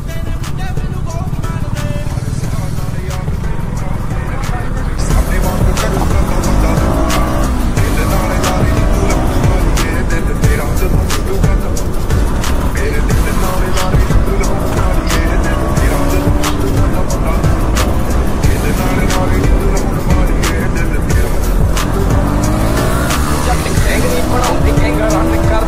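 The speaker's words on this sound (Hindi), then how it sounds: "यहाँ पे ड्रैग रेस लगी है तो देखते हैं अब कौन सी बाइक आगे निकलती है" Two KTM motorcycles, a Duke 390 and a Duke 200, drag racing, with loud, continuous engine roar and revving throughout, dense and close, with faint voices mixed in.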